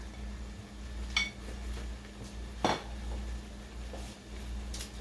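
Grilled vegetables, bell pepper strips and noodles are tossed in sauce in a pan over high heat, giving a soft background sizzle broken by two or three sharp metallic clanks of utensil against pan.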